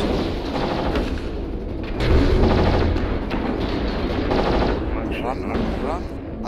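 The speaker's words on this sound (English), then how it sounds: "Airstrike online. Airstrike activated." An airstrike lands in the MechWarrior Online battle game, sending a dense, continuous barrage of booming blasts and rapid gunfire, loud and close throughout.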